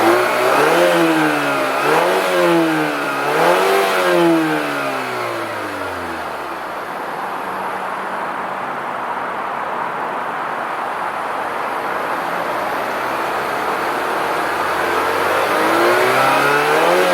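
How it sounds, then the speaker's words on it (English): A 2019 Mazda CX-9 Touring AWD revs up hard through its dual exhaust, climbing and falling in pitch a few times, then settles into a steady, loud idle-like hum close by with no talking. "And then you do have dual exhaust."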